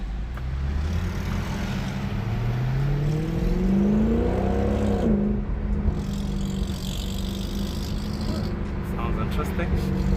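The 6.3-litre V8 of a 2012 Mercedes C63 AMG (W204), heard with the window down, revs up and accelerates, its droning pitch climbing steadily before settling into a steady hum with road noise.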